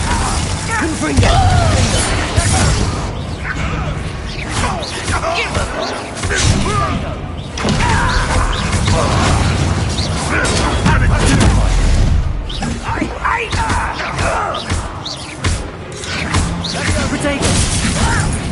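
Spell blasts and explosions from a Harry Potter video game crash and crackle in rapid, dense bursts, loud and chaotic, with a player shouting over much of the action.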